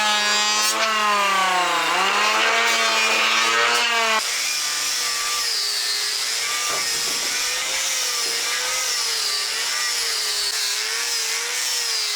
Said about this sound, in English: We're just going to cut a bevel onto one of the sides so it can open.